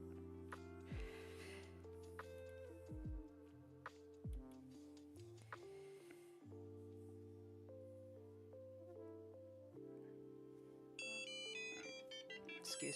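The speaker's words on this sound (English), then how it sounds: "Excuse me, that's my phone." A mobile phone ringtone plays a steady melodic tune through the whole stretch, with a brighter, higher chiming pattern near the end, set against quiet background music.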